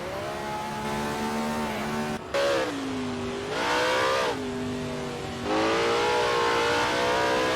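Several 1950s Formula 1 race cars in a racing video game at Bridgehampton roar continuously, engine pitch rising and falling through gear changes as cars accelerate and pass, loud and close with no talk.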